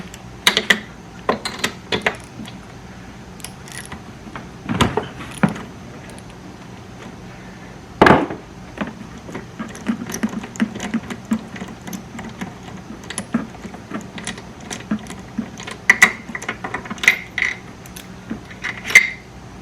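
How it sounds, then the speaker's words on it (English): A socket wrench clicks and ratchets in short irregular bursts while removing a spark plug from a Honda EU2000 inverter generator, with occasional small metallic knocks and clinks, close and fairly quiet. "Now spark plug, just twist back and forth and pull up. That is a 5/8 socket."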